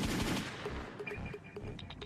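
Rapid gunfire from an animated action scene, a dense burst of shots crackling continuously at the start and then thinning into scattered sharp pops, loud and close, with no talking.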